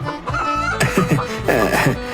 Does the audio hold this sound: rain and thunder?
no